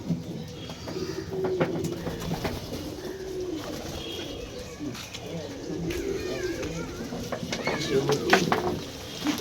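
Pigeons coo softly and repeatedly nearby while people talk over them, with faint household bustle in the background.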